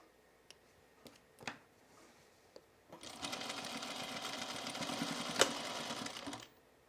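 A sewing machine stitches a top with tucks in one steady run of several seconds, preceded by a few light clicks and handling knocks, with no talk over it.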